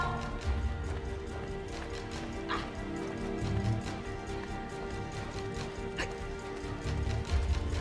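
A dog barks and whimpers in the video game Assassin's Creed Brotherhood, a few sharp yips over busy background ambience with hoof-like clopping and faint activity.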